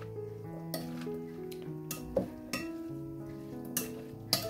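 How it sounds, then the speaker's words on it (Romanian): Salad dressed with cold-pressed olive oil is stirred in a bowl, producing soft scraping and several sharp clinks of utensils against the dish, quiet and close, over faint background tones. "Și amestecăm foarte bine salata."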